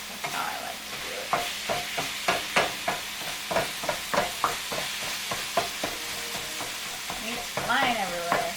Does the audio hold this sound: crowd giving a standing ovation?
no